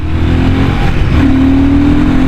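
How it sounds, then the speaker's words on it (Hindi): Royal Enfield Himalayan 450 motorcycle engine revved with the throttle, a loud close mechanical drone that rises in pitch midway and holds, no talk. "देखो क्या थ्रॉटल रिस्पॉन्स आ रहा है यार, बहुत ही उम्दा"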